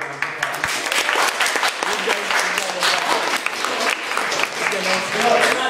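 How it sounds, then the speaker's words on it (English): Audience applause at a presidential speech event, sustained clapping from a crowd that fills the room at moderate loudness, with a voice briefly heard over it. "Give her a round of"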